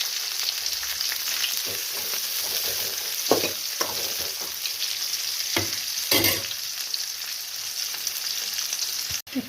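Chopped onion hitting hot oil already crackling with bay leaf and star anise for a gongura chicken curry, a steady close sizzle with occasional stirring scrapes and spatters.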